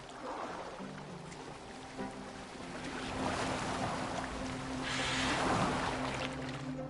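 Boat moving on water in the video game Assassin's Creed Valhalla, a soft wash of waves and wind with swelling surges, accompanied by a low sustained musical tone.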